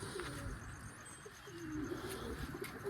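Soft, low cooing from crossbred domestic pigeons, quiet and somewhat distant, repeating over a faint background with a few light chirps.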